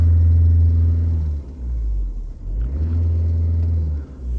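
A 2014 Skoda Octavia A7 GreenLine with a 1.6 TDI 81 kW diesel engine runs close by with a steady, deep rumbling idle. Two brief revs interrupt the even low drone.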